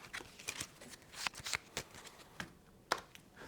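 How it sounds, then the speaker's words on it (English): A deck of board game cards is shuffled by hand, a run of quiet, crisp riffling snaps and papery flicks in irregular bursts, close up with no talking. "We shuffle Buster's deck."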